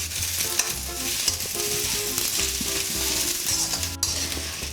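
Onions and green capsicum stir fried over high heat in a wok, a steady loud sizzle and crackle with scraping stirs throughout and a sharp clank near the end.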